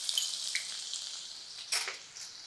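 Onion, cumin and crushed garlic fry in hot oil with a steady, bright hiss, near and even, with a short louder burst of spitting partway through.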